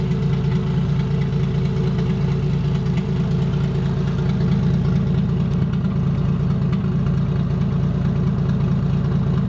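Toyota 1JZ engine running in a Cressida at its first startup, a steady close idle with a continuous low rumble and slight knocking texture throughout, no talking.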